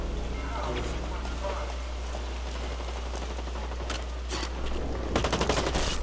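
Gunfire in Blacklight: Retribution, a burst of rapid automatic shots over a steady low game hum, the firing thickening and growing louder toward the end, with a voice speaking over it.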